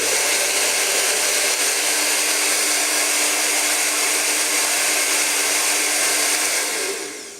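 A Remington AC9007 hair dryer on turbo mode blows with a loud, steady, broadband whoosh of air close by, holding constant before tapering off at the very end.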